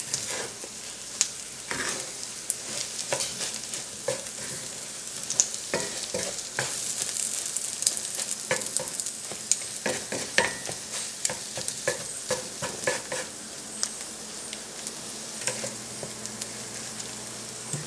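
Eggs and cheese for a breakfast burrito sizzle and fry steadily in a pan, with frequent close scraping and stirring clicks of a utensil throughout; no one speaks.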